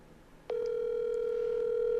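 A steady telephone ringback tone starts after a brief pause and holds as one continuous, even tone to the end, heard clearly and close during a call placed to a friend.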